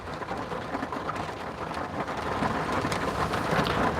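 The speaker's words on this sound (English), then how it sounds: "this rain better chill" Steady rain falls throughout, a dense broadband hiss with a scattering of heavier drops and a faint low rumble, growing slightly louder toward the end with no voices.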